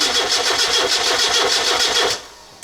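A Volkswagen Jetta engine cranks over in a steady, rapid rhythmic chug for about two seconds without starting, then cuts off abruptly into near quiet.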